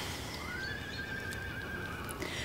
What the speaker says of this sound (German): Icarus ist ein erstklassiges Rennpferd.